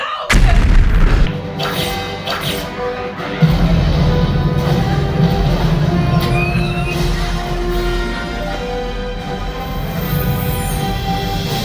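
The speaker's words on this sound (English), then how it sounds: "No, they need something with explosion" A staged explosion effect in a Disney cruise ship stage show opens with a heavy, deep boom. A long rumbling, swelling orchestral and effects wash follows, loud and reverberant in the theater.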